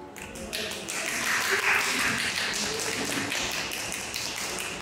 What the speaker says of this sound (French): Des petits applaudissements pour vous, s'il vous plaît